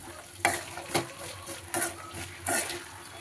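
A spoon stirs broad bean (chikkudu) curry with egg in a hot pan after salt goes in, giving four or five scraping strokes over a steady soft sizzle, close and clear.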